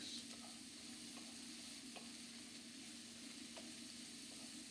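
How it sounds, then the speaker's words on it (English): Pepper being stirred into chilli con carne in a pan: a faint, even frying hiss with soft stirring scrapes every second or so, with no voices. "Let's get the pepper in there now as well. Straight in there, lovely. Give that a good mix."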